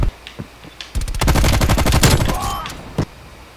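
Sustained rapid automatic fire from an LMG in Call of Duty Cold War, a loud close burst of about two seconds with evenly spaced shots, preceded by a few isolated cracks and followed by one final shot.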